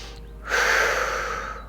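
A single forceful exhale during a core exercise, a close breathy rush that swells quickly and then fades gradually.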